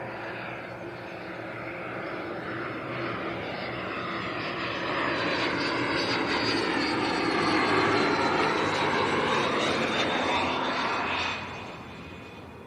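A Cessna Citation business jet passes at Leeds Bradford Airport with a loud, sustained whine and roar that swells toward the middle, holds with a shifting high tone, then fades away as it recedes.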